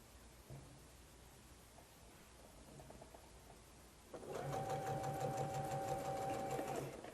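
Quilting sewing machine chain sewing quilt fabric starts up after a quiet stretch, then runs steadily and loud with a fast, even whirring stitch rhythm for about three seconds.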